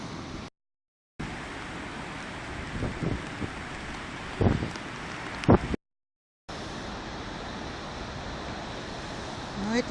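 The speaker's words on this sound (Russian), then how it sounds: "Дождь, ветер, холодно, шаленое море." Stormy Atlantic surf rolls in at Cadiz on a cold, rainy December day, a steady broad roar of waves with gusting wind buffeting the microphone and a few louder surges, broken by two short silent gaps.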